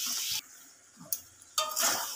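Masala for dhaniya chicken fries in a pan with a bright, steady sizzle that cuts out briefly while the pan is stirred, then surges back loud and close.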